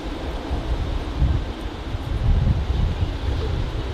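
Continuous wind rumbles and gusts against the microphone, a low, buffeting roar that swells and eases with no voices present, beside the runway at Manchester Airport during a windy landing approach.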